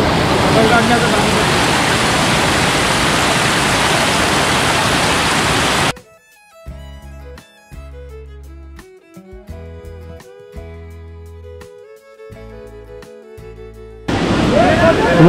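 A monsoon waterfall on the trek to Tahuli Peak near Kalyan roars as a loud, steady rush of water, which gives way to music for several seconds before the torrent returns.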